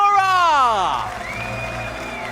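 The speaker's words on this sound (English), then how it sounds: "And the winner of Gran Turismo World Series 1 here in Italy from Spain, give it up for Pol Urra!" A crowd in Milan cheers the race winner at a Gran Turismo World Series esports event: a loud falling whoop over a roaring, applauding audience, with a voice carrying over the noise.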